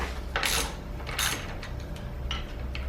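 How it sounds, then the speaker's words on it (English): Wrench working a front axle bolt on a KTM dirt bike wheel, giving a few close metallic ratcheting clicks and scrapes in short bursts, with quiet pauses in between. "loosen up the bolt that you previously tightened"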